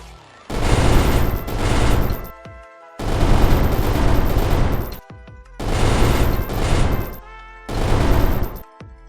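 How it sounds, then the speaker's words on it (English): Bullets strike surfaces in a Minecraft Batman addon, loud dense bursts of rapid machine-gun-like impacts lasting about two seconds each, four bursts separated by short pauses. "The bullets now make noise whenever they hit anything."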